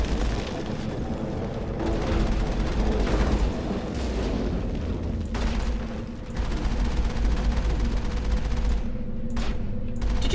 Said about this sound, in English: we're getting in the Mako, and the Mako's gonna shoot for us